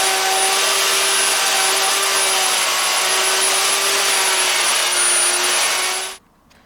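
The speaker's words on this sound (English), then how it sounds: "hey, I can hold the router like a normal person." A handheld wood router cuts into a Fender Telecaster guitar body during a restoration, giving a loud, steady high-pitched whine with a broad rushing noise of the bit in wood, running continuously before shutting off abruptly near the end.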